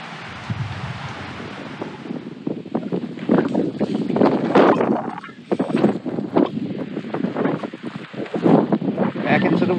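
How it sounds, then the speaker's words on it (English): Steady, loud wind gusting across the microphone on a mountain trail in the Dolly Sods Wilderness, with a rushing roar that dips briefly midway before building again. "Back into the wind."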